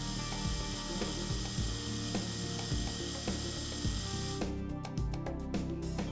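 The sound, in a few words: Calamus Flow handpiece plunger pulling back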